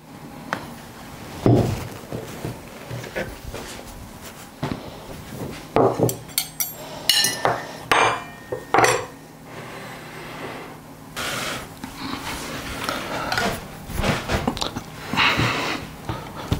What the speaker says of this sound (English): put the pot on the breakfast table